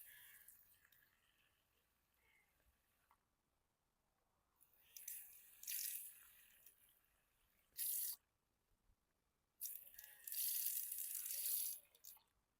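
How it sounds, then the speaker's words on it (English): Water is poured into a planting hole for leeks in a garden, coming in several separate bursts of splashing and trickling with quiet pauses in between, close by. "you just fill in your hole with water"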